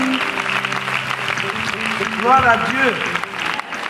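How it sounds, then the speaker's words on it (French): Audience clapping at an international women's conference workshop: a steady wash of applause, fairly close, running under a loud voice and sung exclamations. "Acclame plus fort le Seigneur."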